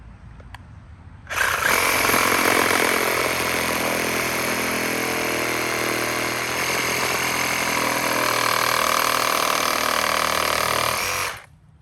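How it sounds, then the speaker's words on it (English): A Sawzall reciprocating saw cuts through the trunk of a grafted Japanese maple, a loud steady buzzing roar that starts abruptly after a quiet moment and runs continuously for about ten seconds before cutting off. "I'm going to take the Sawzall and try to get it in there and cut this side off"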